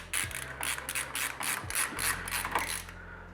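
Small screw being driven into a network card bracket in a server-to-desktop 25 Gigabit Ethernet setup, giving a quick run of close, regular ratcheting clicks over a low steady hum, with no talking.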